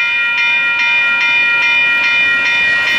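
A loud, sustained train horn blares steadily along Clinton Street, with faint rhythmic clicking pulses beneath it, close by.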